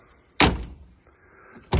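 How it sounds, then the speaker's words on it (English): Door of a 1938 Austin Big Seven Sixlite saloon shutting with a solid thunk, one clear close slam followed by a quieter latch, then a second shut beginning at the end, near and alone. "But just look how these doors shut."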